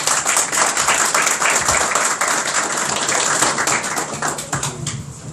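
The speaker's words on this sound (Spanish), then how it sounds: "vamos a recibir con un fuerte aplauso a Jonathan Demba" Audience applause welcoming a speaker to the stage at a lecture event, a close, crisp wash of clapping that holds steady and thins slightly toward the end.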